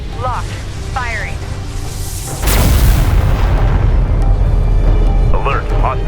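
A heavy weapon discharges in Homeworld: Deserts of Kharak, a loud booming blast midway that rolls into a long rumbling tail, preceded and followed by chirping electronic tones and ambient game noise.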